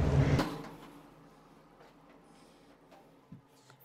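A bathroom door in a house closes with a loud, close thud and rattle at the start. Softer faint knocks and small handling sounds follow in a quiet room.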